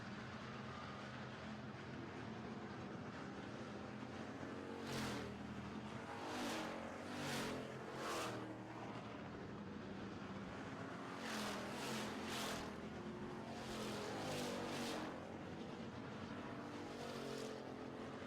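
Pure stock race cars run a feature race on a track, their engines droning in a continuous background roar while several cars swell past one after another with rising and falling whines, with no talk.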